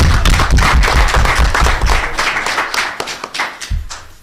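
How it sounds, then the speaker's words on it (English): Audience at a township board meeting breaks into loud, dense applause that swells then thins into scattered claps, fading out over a few seconds. "Give her a round of applause."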